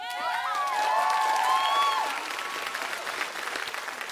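An audience at PAX East 2019 applauds and cheers, with shrill whoops and whistles rising over steady clapping that gradually eases off.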